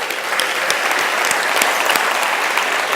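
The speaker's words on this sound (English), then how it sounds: "Big round of applause." An audience at a fireside chat event gives a sustained, loud round of applause, dense and even throughout with no voices on top.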